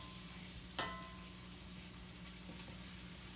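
Garlic frying in olive oil in a pan gives a faint, steady sizzle with one brief clink partway through, close and with no voices.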